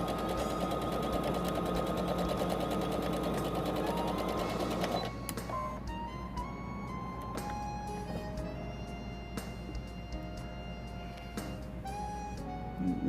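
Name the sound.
sewing machine stitching a back stitch on towel fabric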